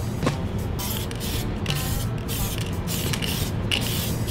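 White spray paint hisses from an aerosol can as a backing coat goes onto a Tamiya TT02 RC car body, coming in close, steady bursts with brief pauses between passes.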